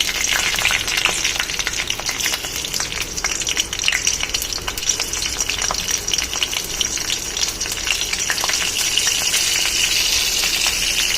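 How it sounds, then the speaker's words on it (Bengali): Black cumin seeds and green chillies frying in hot oil, a loud, dense crackling sizzle with sharp pops running steadily from start to finish. "আমি প্রথমেই তেলের মধ্যে কিছুটা কালো জিরে নিয়ে নেব আর কটা কাঁচা লঙ্কা দিয়ে দেবো।"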